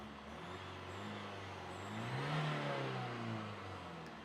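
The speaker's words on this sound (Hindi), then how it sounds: "उसके बाद जब मैं रेव करूँगा तो डीजल इंजन है" A tuned diesel car engine on a second-hand car is revved once, swelling from idle to a rising growl and easing back down, fairly quiet and without talk.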